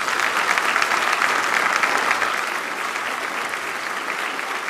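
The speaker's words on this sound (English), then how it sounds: "Please, a round of applause, ladies and gentlemen." An audience at the 2023 Western Australia Australian of the Year Awards ceremony claps in a dense, continuous round of applause. The sound is steady and full and eases slightly toward the end, with no talking.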